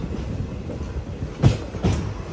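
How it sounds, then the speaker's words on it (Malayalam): A passenger train pulls into Annigeri railway station, its carriages rumbling and clattering close by, with a couple of louder wheel knocks rising above the steady rolling noise. "അന്നിഗേരി റെയിൽവേ സ്റ്റേഷനിലേക്ക് ഇതാ ട്രെയിൻ എത്തിക്കൊണ്ടിരിക്കുകയാണ്"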